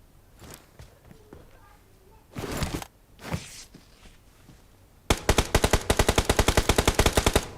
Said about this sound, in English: Another house also shooting me.